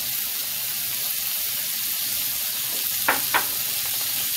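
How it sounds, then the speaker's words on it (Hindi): Whole green chickpeas and potatoes hit a hot pan for hara chana curry, giving a steady, bright sizzle, with two quick clinks from a utensil near the end. "अब हम इसमें ये साबुत हरा चना मिक्स कर लेते हैं और ये आलू भी इसमें डाल देते हैं"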